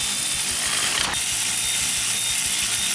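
Ratchet tightening the crank pulley bolts on a 1965 Mustang, a fast, continuous run of loud, close clicking from the pawl for a few seconds.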